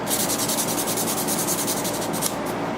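Fine-grit abrasive sanding the blades of a vintage 1947 Kutmaster Girl Scout pocket knife, a steady close hiss of rubbing strokes with a fast repeating rhythm, heard alone without talk.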